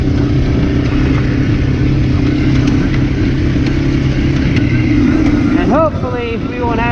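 An Arctic Cat 400 ATV engine, a 2006 model, idles steadily after a rebuild, loud and close with a continuous throbbing drone, with a brief voice near the end.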